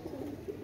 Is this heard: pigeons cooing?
yes